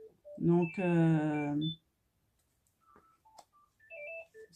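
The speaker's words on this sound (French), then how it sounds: "excusez-moi, c'est mon téléphone" A mobile phone chimes with a short series of bright, scattered electronic tones, following someone speaking French.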